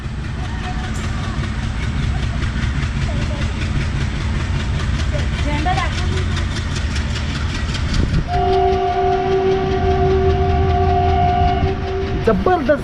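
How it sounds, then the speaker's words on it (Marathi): A Konkan Railway train's heavy locomotive engine rumbles steadily up close, then a loud, sustained two-tone horn blares for several seconds before cutting off. "इंजिनचा हा आवाज बऱ्याच दिवसापासून ऐकला आहे मी, एक नंबर इंजिनचा आवाज हा."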